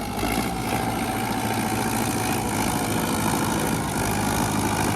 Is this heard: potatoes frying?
no